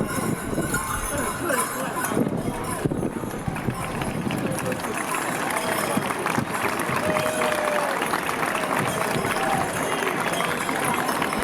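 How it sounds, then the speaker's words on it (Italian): Carnival crowd applauding Scambas de Digna of Guspini at an outdoor Sardinian festival, a dense steady wash of clapping and crowd noise with footsteps and murmuring throughout, fairly loud and continuous. "Applausi anche per Scambas de Digna di Guspini"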